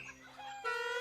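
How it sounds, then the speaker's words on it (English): Chickens cluck in a cartoon farm scene, a short burst of bright, tonal clucks and squawks that rises sharply at the end, heard alone. "Chickens? Farm? What's going on down there?"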